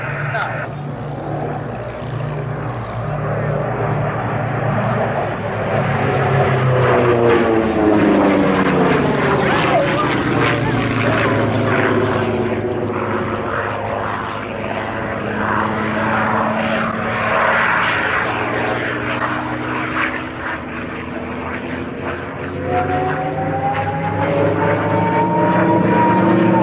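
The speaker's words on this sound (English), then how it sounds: "the North American P-51 Mustang" North American P-51 Mustang propeller fighter flying a display, its steady engine drone and propeller roar loud and continuous throughout, swelling and shifting in pitch as it passes, with a voice faintly audible underneath.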